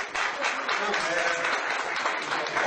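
Dense audience applause, a continuous wash of many hands clapping at a steady level throughout, close and loud.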